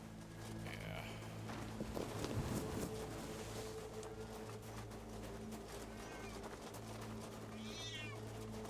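A cat meows in the fantasy video game Tainted Grail, a few soft mewing cries over a low steady hum of game ambience, with a brief thud in between.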